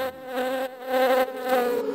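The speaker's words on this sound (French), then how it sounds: "Attention, il y a la guêpe." A cartoon wasp buzzes loudly and close, a wavering, warbling drone that rises and dips over two seconds, heard alone without talk.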